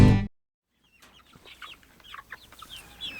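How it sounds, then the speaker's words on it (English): Cornish Cross meat chickens clucking softly in chicken tractors out on grass, a scattered run of small chirps and clucks coming after a brief loud burst and a short pause. "we have about 36 Cornish Cross meat chickens currently in chicken tractors out here on grass"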